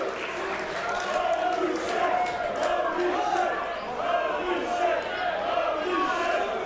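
An arena crowd at a BODYSLAM! Wrestling match roars steadily after a superplex in the middle of the ring, a sustained wash of cheering and shouting with swelling surges.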